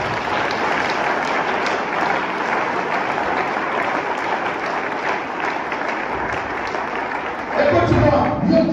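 A church congregation breaks into applause during a French-language sermon, a dense wash of clapping that holds steady throughout and swells louder near the end, with voices mixed into the crowd.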